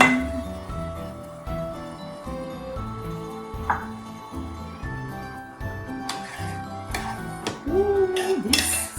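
Metal utensils clink and tap against plates and a pan while pan-cooked salmon with capers and garlic is served, with light scattered knocks and a few sharper clinks close by.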